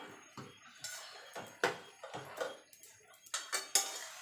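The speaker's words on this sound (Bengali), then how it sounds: "পাতাটা দিয়ে ভালো করে নেড়ে দেবো" Tender gourd stems and leaves with potato get stirred in a pan, a series of quiet, irregular scrapes and clinks of a spoon against metal, close by with no talking.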